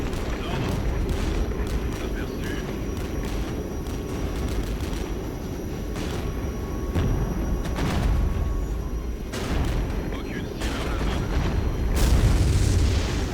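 Napalm bombs dropped by Jaguar jets explode in a Cold War real-time strategy battle, a dense rumbling barrage of booms and bursts, with more blasts building toward the end.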